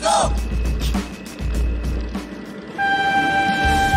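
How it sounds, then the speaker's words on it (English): A cartoon train rumbles past with a loud, sustained horn toot coming in near the end, heavy low rolling noise throughout and no talk. "Oh my god, train!"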